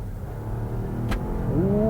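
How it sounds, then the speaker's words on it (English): The gas engine of a refreshed Volvo XC90 plug-in hybrid, driven on roads in southern Sweden, starts up mid-drive and rises in pitch over steady road and tyre noise inside the cabin. "Gas engine comes on a little bit, but boy, powerful."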